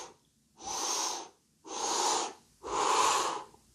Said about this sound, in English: We do this with an inhaling breath.